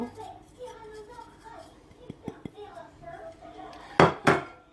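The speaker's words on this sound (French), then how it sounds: "on met les épices, toutes les épices en même temps" Spices are dropped into a bowl holding parsley, giving a few soft taps and then two sharper ceramic clinks near the end, close by, against faint background murmur and a brief voice early on.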